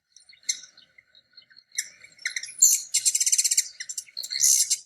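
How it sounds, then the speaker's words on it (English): Black-chinned hummingbird calling alone: thin, high chips and twitters scattered at first, then a fast buzzy trill and a final harsh burst, clear and fairly close against silence. "Black-chinned hummingbird."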